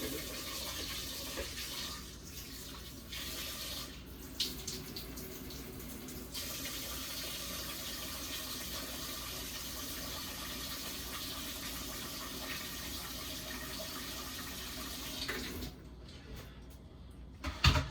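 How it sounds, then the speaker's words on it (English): Steady rush of water pouring into a rice pot up to the fill line for most of the clip, with a few faint clinks and knocks around it. "we're adding water up to the line"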